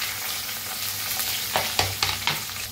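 Onion frying in a pan with cumin and curry leaves, a steady close sizzle broken by several sharp scrapes and clacks of stirring toward the end.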